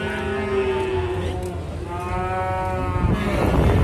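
Cattle on a farm give a long, close, drawn-out moo, then a second lowing call rises after a brief break, with faint farmyard background noise throughout.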